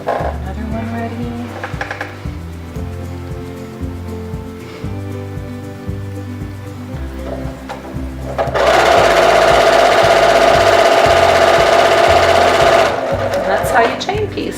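A sewing machine chain pieces quilt blocks with a rapid, steady mechanical stitching rhythm that runs throughout, loud and close, briefly joined by a louder whooshing rush, while a person talks over it.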